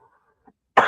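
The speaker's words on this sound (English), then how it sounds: "I'm already coughing" A single sharp cough bursts out near the end after near silence and a faint throat sound.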